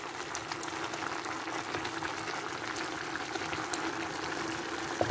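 Pork stew simmering in a pot, a continuous bubbling and gentle sizzling texture with small pops, steady and close, no one talking.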